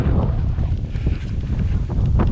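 Strong, moderate coastal headwind buffets the microphone on a bike tour along the North Sea coast, a loud continuous low rumble and roar with no other sounds.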